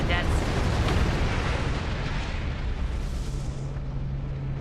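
Starship weapons fire and explosions in the space combat game Star Trek Online, a dense, rumbling barrage of blasts that stays loud and continuous throughout, with a low steady hum underneath.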